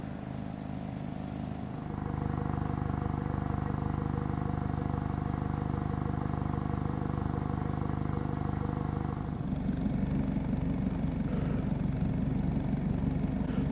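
A Mazda Miata ND with an aftermarket exhaust idles near the tailpipe, a steady low burble that suddenly rises and then drops back to a rougher, lower idle.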